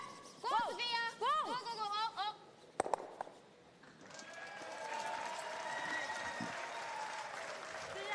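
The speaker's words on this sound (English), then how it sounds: "The crowd enjoying that one." Spectators at a women's world championship curling gold medal match between Sweden and Switzerland break into sustained applause and cheering after a shot, following a few sharp calls and a clatter, filling the arena at a moderate distance.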